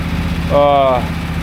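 Tractor engine idling with a cart attached, a steady low, throbbing rumble running throughout while a voice is briefly heard over it.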